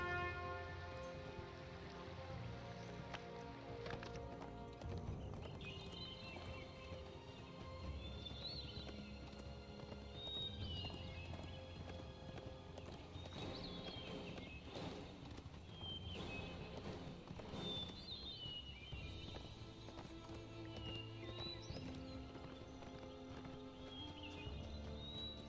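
Horse hooves clip-clop steadily in the fantasy game Lord of the Rings Online, set in Rohan, heard as a rhythmic trot beneath layered game music, with a brief whinny-like cue partway through.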